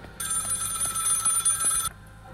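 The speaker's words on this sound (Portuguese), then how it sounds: "Telefone." A telephone rings in the horror video game Maid of Sker, a bright trilling bell that sustains for nearly two seconds over a low ambient background.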